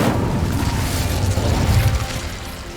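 Incendio fire spell cast in the video game Hogwarts Legacy, a loud, dense burst of low rumbling flame and crackle that holds steady for about three seconds.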